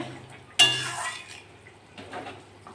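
A metal lid is lifted off a cooking pot of pangas fish and potato curry: one sharp clank, then a soft fading ring and simmer, close and quiet, with no talking.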